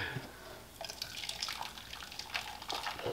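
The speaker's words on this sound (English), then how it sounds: "We've got it all poured through the strainer into the bowl." Eggnog being poured through a strainer into a bowl gives a soft, continuous liquid trickle and splatter, faint and close, with no talking.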